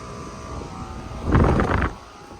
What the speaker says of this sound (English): This one's got a noisy compressor sound.